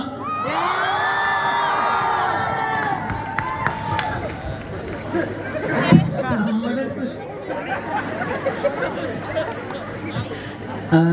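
A college campus crowd cheers, whoops and shouts loudly and continuously, with high-pitched yells rising over the dense roar of many voices.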